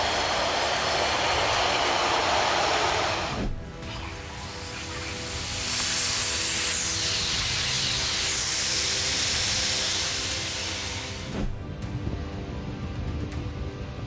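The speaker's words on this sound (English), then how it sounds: "The camera captured a military train leaving the port of Chevrolet on its way back to Whippy" A military train pulls out of a port, producing a loud, continuous rumble and hiss of rail cars rolling past, with rushing noise swelling and easing over time and no voices.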